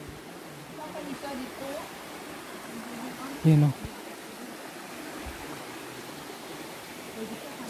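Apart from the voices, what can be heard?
Kawasan Falls waterfall, strong current of water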